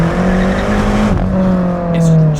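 A BMW M6 with a twin-turbo V8 and a dual-clutch gearbox roars loudly close up as it accelerates. The engine note holds steady, drops briefly at a gear change, then climbs again. No one speaks.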